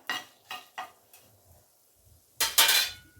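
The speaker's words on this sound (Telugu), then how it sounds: "ఇందులోకి 1 స్పూను ధనియాలు వేయాలి. ఇవి కూడా కలపాలి బాగా." Dry red chillies and coriander seeds being stirred in a metal pan for Telugu radish chutney: three quick scraping clinks at the start, a couple of faint ones, then a louder stretch of scraping and rattling near the end.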